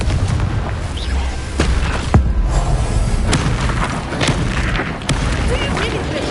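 Spell blasts crackle and boom in the Hogwarts Legacy video game during a duel, arriving as a dense run of sharp impacts over a loud, constant game soundscape while a voice calls out spell names.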